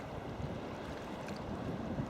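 Strong north headwind buffeting a sea kayaker on open water, a steady close roar of wind noise with a faint wash of water beneath, continuous with no talk.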